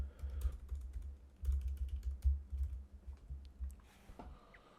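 Typing on a computer keyboard: quick, uneven bursts of light clicking keys, close and fairly quiet, with no talking.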